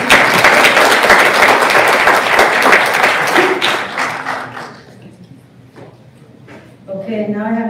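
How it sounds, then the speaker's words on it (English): Audience applauding a congressman at a congressional Hispanic policy event, dense steady clapping for about four seconds that fades out, followed by a voice speaking. "A round of applause for the Congressman."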